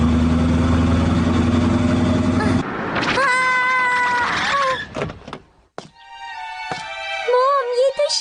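In a Doraemon cartoon, a voice imitates a cat with several drawn-out, whiny meows in a row, following a low, engine-like drone that cuts off abruptly.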